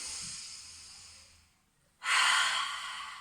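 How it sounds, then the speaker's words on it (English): Steady breathing during a pilates knee-drop twist: a soft, long exhale fades to silence, then a louder, rushing breath follows, close to the microphone with no talking. "Breathing out as you drop the knees."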